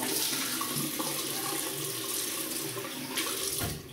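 Tap water runs steadily into a sink as a shaving razor is rinsed under it, a close continuous splashing flow that fades near the end.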